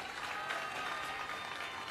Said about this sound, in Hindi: एक बार ताली बजा दो अपने एमएलए के लिए सारे जने।